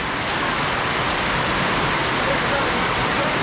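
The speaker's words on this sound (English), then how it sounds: "everyday situation during rainy season here in this part of Cebu. Like crazy." Heavy rain pours during the rainy season in Cebu, Philippines, a dense, steady roar of falling water with no breaks, loud and close, alone without voices.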